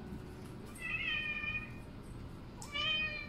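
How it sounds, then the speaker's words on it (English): A pet cat gives two clear, drawn-out meows, the second following a short pause, over a steady low background hum in a quiet home. "And this is my kitty."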